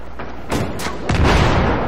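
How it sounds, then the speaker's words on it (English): Explosions blow up a house in Battlefield 3: two heavy booms arrive in quick succession, each a sudden loud blast followed by a rumbling tail, with no talk. "He's just blowing that house up to find me, isn't he?"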